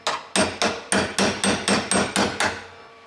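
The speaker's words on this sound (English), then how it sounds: "I did tap it with a rod to get the job done" Metal rod tapping on a Golf mk2 steering column part, ten sharp evenly spaced strikes, loud and close, each ringing briefly before the next, with no voices.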